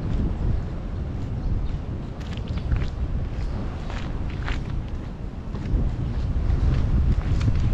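Strong wind buffets the microphone near a highway underpass on a bypass road in Cabantian, Davao, a steady low roaring rumble that runs the whole time with faint scattered rustles above it.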